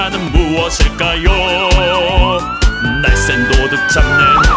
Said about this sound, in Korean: 날쌘 도둑 잡는 멋진 경찰차